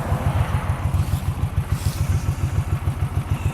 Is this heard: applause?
no